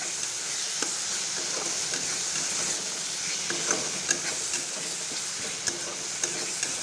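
Spice paste with green chillies frying for a Bengali egg and potato curry, a continuous crackling sizzle with occasional sharp pops and stirring scrapes, close and steady with no talking.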